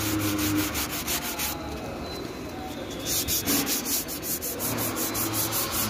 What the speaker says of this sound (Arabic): بعد كده صنفرة 2000 ونلمع بالبولش